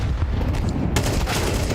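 Pistol fire in a Counter-Strike match at a pro esports event, dense overlapping shots in a steady loud wash with a sharp burst of cracks about halfway through.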